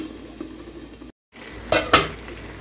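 A lid set onto a cooking pan with fish frying in oil, two quick metallic clanks after a short gap, over a low sizzle.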